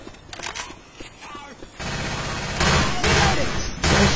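Gunfire in a Left 4 Dead 2 co-op session starts with a few sparse cracks, then builds into loud, dense, sustained bursts of rapid shooting, with nobody talking over it.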